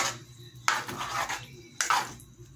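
A utensil scrapes and clanks against a pan while spaghetti sauce with milk is mixed, in two short, fairly close bursts with quieter stirring between them.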